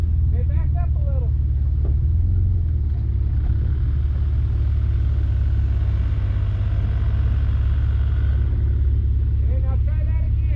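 A Toyota RAV4 stuck in sand, its engine droning and rumbling steadily throughout at close range, with people talking over it.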